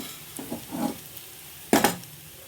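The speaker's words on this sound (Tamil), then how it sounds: "இப்போ தாளித்ததை எடுத்துகிட்டு பருப்பில் சேர்த்துக்கலாம்." Cooked dal being stirred after tempering is added in a home kitchen: a few soft scraping stirs with faint sizzle, then one louder clatter of a spoon against the pot.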